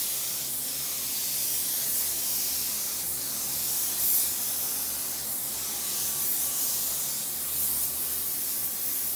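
A paint spray gun loaded with a mixed bleed-check coating gives a continuous, even airy hiss that runs close and steady for the whole stretch, with only slight swells in level.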